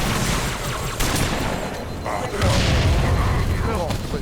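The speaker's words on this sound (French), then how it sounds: "on lance une petite grenade." A grenade blast in the Halo 3 video game lands amid ongoing in-game gunfire, with one booming burst partway through over a busy battle mix while a player talks.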